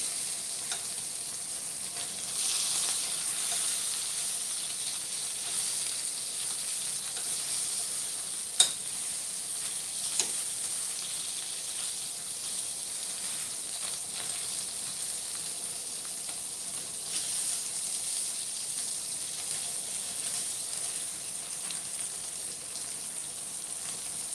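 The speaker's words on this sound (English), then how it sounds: "you want to see the sausages, huh? Oh, I don't blame you. They're sizzling delightfully." Sausages sizzle steadily in a frying pan, a continuous crackling hiss with occasional small pops, close and unbroken throughout.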